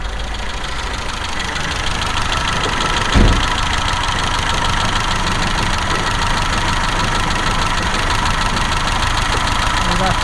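A carbureted BMW 2002 engine idles steadily while warming up, a loud continuous close rumble with one brief thump early on; a voice talks over it.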